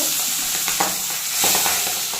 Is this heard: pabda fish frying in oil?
yes